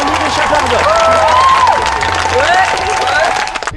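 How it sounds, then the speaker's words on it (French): An audience applauds and cheers at an award ceremony, the Chapards d'Or, with steady loud clapping and scattered whoops and shouts, close and full throughout before thinning at the end. "sous vos applaudissements"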